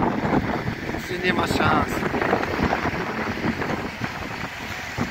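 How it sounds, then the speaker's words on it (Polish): Strong wind roars near a fire in Gdańsk, buffeting the microphone in loud, continuous gusts while a person speaks over it. "tak potężny wiatr"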